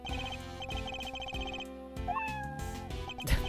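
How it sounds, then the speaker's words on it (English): A cat meows from an Ace Attorney video game, a short rising cry over looping game music with bright plucked notes, fairly prominent and with no voices. "Nice cat noise."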